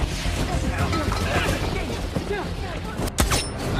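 Gunfire from a video game shootout near a tower, with dense rapid bursts and booms running continuously over a busy, loud mix, a sharp crack standing out near the end.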